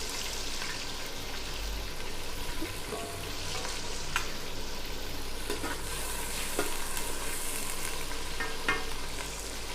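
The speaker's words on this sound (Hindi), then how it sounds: "ये अब भून रहे हैं हम इसको" Onions frying in a pan for kadhi pakora, giving a steady, close sizzle with occasional stirring scrapes and small pops, alone without talk.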